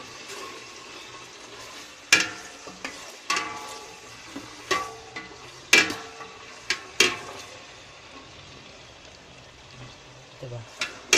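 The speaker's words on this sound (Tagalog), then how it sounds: "We are already sauteing the chicken." Chicken breast sautés in a pan for a rainy day soup, with sharp spatula clanks and stirring scrapes over a faint sizzle, spaced irregularly at close range.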